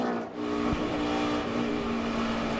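A NASCAR race car engine drones steadily and loudly while accelerating on track, its pitch holding strong with a sustained roar that fills the whole moment.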